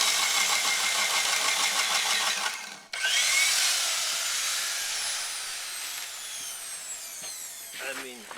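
A drill with a sharp new 1.25-inch auger bit bores into wood, making a loud, continuous grinding whir that cuts out briefly, then restarts and gradually fades, with a voice speaking near the end.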